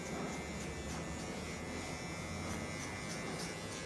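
Electric hair clipper running during a fade haircut, a faint steady buzzing hum that continues unbroken, with no talk.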